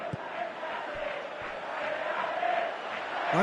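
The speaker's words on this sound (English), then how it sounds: "you can feel and hear how the crowd are reacting to all of this" Football stadium crowd at an Atletico Madrid match, a broad sustained roar of many voices that rises slightly toward the end, with a few sharp thumps.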